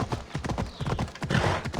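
Horse galloping in the video game Assassin's Creed Odyssey, a rapid, steady clip-clop of hooves close by with a brief whinny, loud and continuous with no talking.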